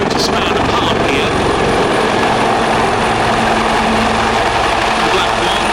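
Royal Navy Wildcat helicopters hover at an air display, about one rotor span apart, their rotors producing a loud, continuous chopping thrum with turbine whine, and a commentator speaks over it throughout.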